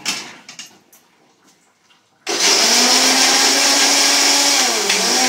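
A kitchen mixer grinder with no power switch of its own starts abruptly after a few quiet knocks, then runs at a loud, steady high-pitched whir to the end.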